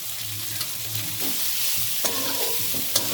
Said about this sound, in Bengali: পেঁয়াজটা প্রথমে একটু ভাজা ভাজা করে নেব।